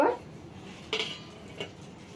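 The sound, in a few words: lid being taken off a container of dough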